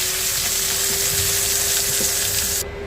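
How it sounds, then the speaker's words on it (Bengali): Fish heads frying in hot oil in a karahi, a loud, dense, even sizzle close up that runs unbroken and then drops off abruptly near the end. "মাছের মাথাটা একটু ভেজে নিব"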